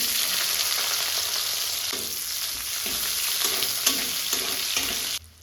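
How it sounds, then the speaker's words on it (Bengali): Continuous loud sizzle of chopped onions frying in oil in a kadai until lightly browned, with rhythmic scraping stirs repeating every second or so, cutting off abruptly at the end. "পেঁয়াজটা হালকা লাল লাল করে ভাজা হয়ে গেছে"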